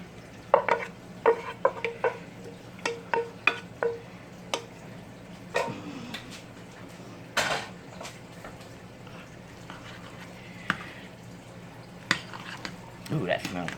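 A spoon stirs sautéed collard greens, garlic and onion into colcannon in a pot, giving irregular clinks and scrapes against the metal over a low background, with faint soft sizzling and wet squelches between strikes.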